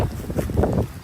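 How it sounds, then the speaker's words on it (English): Strong wind gusting outdoors on a very windy day, a loud, steady rush of buffeting noise battering the microphone throughout with no pauses. "It is a very windy day."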